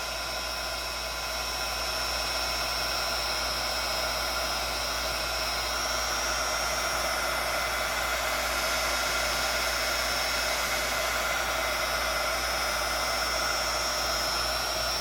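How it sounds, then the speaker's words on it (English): An old embossing gun blows hot air onto alcohol ink on a tumbler, giving a constant close whooshing hum of motor and airflow that holds steady and unbroken throughout with no voices. "I'm just using my old embossing gun, and I'm just going to start giving it some heat."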